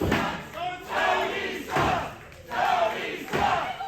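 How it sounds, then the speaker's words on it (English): Wrestling crowd at an indie show jeering a heel wrestler, a loud sustained roar of boos and shouts rising and falling in about four swells with no clear talk over it. "the crowd letting Tony know he sucks"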